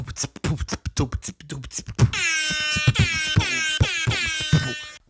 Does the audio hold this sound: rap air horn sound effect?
yes